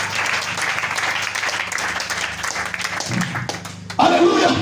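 A church congregation claps and cheers during a worship service, with steady crowd applause and voices throughout, swelling louder and brighter near the end.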